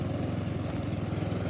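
A Stiga ST 600 Twin riding lawn mower, used for mowing on a downhill grade, runs with a steady low engine drone and a regular rhythmic pulse, close and continuous with no voices.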